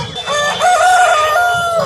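A rooster crows loudly and close at a Nellore country chicken market, one long drawn-out cock-a-doodle-doo rising and holding before trailing off, with faint market bustle beneath.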